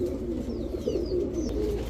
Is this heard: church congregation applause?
no